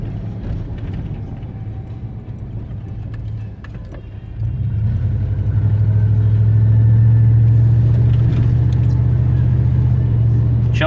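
A car cruising along Route 66 in Chelsea, Oklahoma, with a loud, steady engine and road rumble from inside the cabin that swells midway as it picks up speed, then holds a constant drone.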